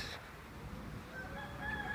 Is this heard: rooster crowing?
yes